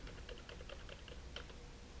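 Several quick taps on a computer keyboard as a number is entered in Microsoft Excel, close and fairly quiet against a steady low room hum.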